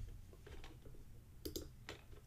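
A computer keyboard being typed on to enter a multi-factor authentication code for an AWS root account: a few soft, quiet key clicks in short irregular bursts over faint room hum.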